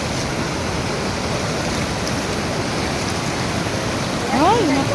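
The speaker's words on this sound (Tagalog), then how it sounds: "Ang lakas ng tubig guys." Strong rushing river water in the Carmen district of Baguio, a steady broadband roar that fills the whole clip at close range, with a brief brighter swell near the end.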